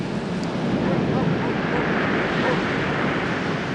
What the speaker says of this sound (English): especially the way the tide's running out, waves coming in, just turning, never stops